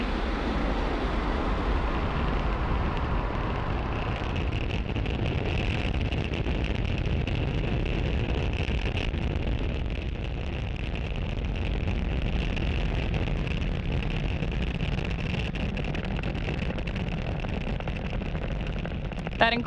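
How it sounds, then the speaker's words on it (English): A SpaceX Falcon 9 rocket thunders off pad 40 and climbs, a steady, dense, distant roar sustained throughout with broadband rumble and no talk. "That incredible view means that Falcon 9 has successfully lifted off from pad 40"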